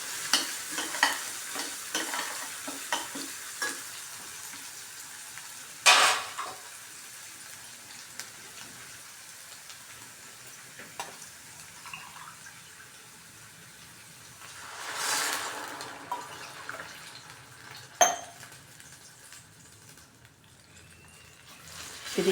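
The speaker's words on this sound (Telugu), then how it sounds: "దానికి 2 గ్లాసులు నీళ్లు పోస్తాను" Two glasses of water poured into a hot pan of oats with curry leaves, giving a steady sizzling, bubbling hiss with a few sharp knocks and louder bursts along the way.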